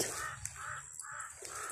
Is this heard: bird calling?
yes